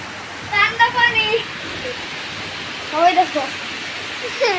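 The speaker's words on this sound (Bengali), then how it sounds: "এখন এই যে মুসুল ধরে বৃষ্টি হচ্ছে" Heavy rain pouring outdoors, a steady broadband hiss running throughout, with a person speaking over it in short phrases.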